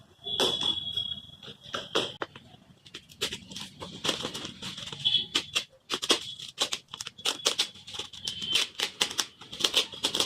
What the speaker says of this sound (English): So I just cut through this package which I got.